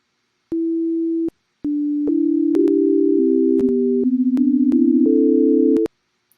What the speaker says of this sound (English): we're hearing clicks and pops